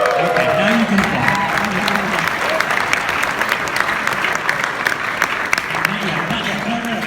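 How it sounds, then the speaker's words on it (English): Applause from a gala audience, dense steady clapping across the whole stretch with a voice speaking over it at moments. "Okay, now you can applaud."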